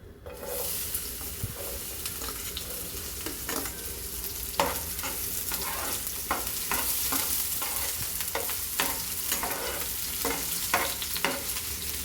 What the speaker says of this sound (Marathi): तेल गरम झालं की आपण त्यात कांदा घालणार आहोत